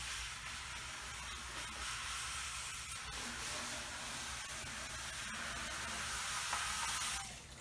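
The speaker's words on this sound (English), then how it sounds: "Spray a little water in the bucket, get rid of all the dregs." A hose sprays water into an emptied five-gallon plastic gold-mining bucket to rinse out the dregs, making a quiet, continuous hiss that holds steady for several seconds with no talking.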